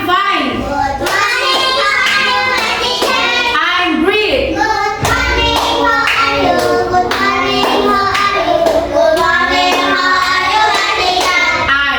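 A class of first-grade students claps a rhythmic spirit cheer in unison, crisp repeated hand claps mixed with children's chanting voices, close and lively.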